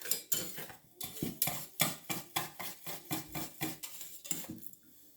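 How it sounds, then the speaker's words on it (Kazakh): Sugar and corn starch are stirred in a pot with a spoon, making a quick run of close, clinking scrapes against the metal, roughly two to three strokes per second, with no talking. "Араластырамыз."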